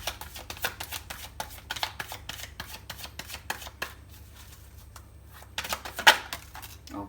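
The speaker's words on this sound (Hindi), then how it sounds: "जहाँ पे मैं ये कार्ड शफल करूँगी, राइडर वेट डेक यूज करूंगी" A Rider-Waite tarot deck is shuffled by hand in a run of quick, soft riffling flicks close by, ending with a sharper card snap near the end.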